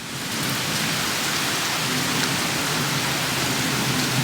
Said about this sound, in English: it is thundering and lightning like crazy outside right now